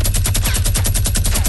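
A minigun in a video game fires a loud, rapid burst of roughly a dozen evenly spaced shots per second, unbroken for the whole moment, close and alone without speech.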